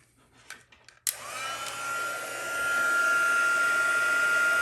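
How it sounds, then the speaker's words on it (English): A craft heat gun starts up with a sharp click and then blows a steady, loud rush of hot air over a piece to dry it, the whine holding one tone and swelling slightly as it runs on alone. "let's take my heat gun. We're going to warm this up"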